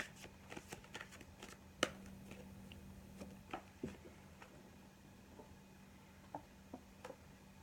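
Tarot cards are shuffled by hand at a tarot reading, giving soft scattered riffles and sharp taps spaced irregularly over a low steady hum, close and fairly quiet with no talking.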